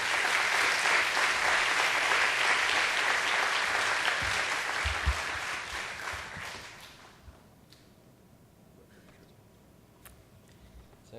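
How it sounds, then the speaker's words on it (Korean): A church congregation claps to welcome a pastor onto the stage, dense sustained applause from a large crowd that fades away over several seconds into near quiet. "우리 나오실 때 박수로 맞아주시기 바랍니다."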